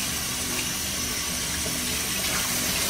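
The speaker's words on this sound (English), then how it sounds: "get my hands washed real quick" Hands are washed under a running kitchen tap, with a dense, constant rush of water splashing into the sink close by and no voices.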